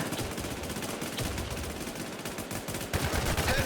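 Dense automatic gunfire in a shooting video game, with rapid rattling bursts that run almost without pause and grow louder near the end, close and loud.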